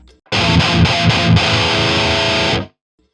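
A heavily distorted rhythm guitar on the girthy rhythm preset of the JST Toneforge Disruptor djent amp sim plays a loud, dense chugging riff with a few short choked gaps, then cuts off abruptly into silence.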